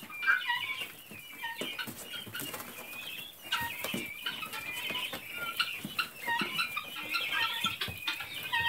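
Young nine-week-old French jumbo guinea keets call steadily in a close indoor pen, a dense chorus of chirps, peeps and clucking cries with occasional wing flaps throughout.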